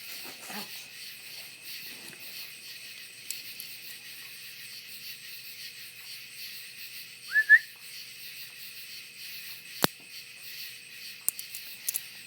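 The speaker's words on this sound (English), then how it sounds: "As bad as the crickets." Crickets chirping at night as a thin, steady high-pitched drone, faint and continuous, with a few brief clicks and a short squeak breaking through.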